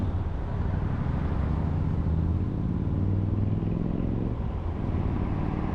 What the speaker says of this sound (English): Hear a motorcycle.